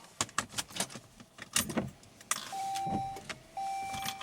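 Inside a Saab, keys jangle and click in the ignition, followed by a short starter crank and the engine catching into a steady idle, with a faint electronic chime beeping over it.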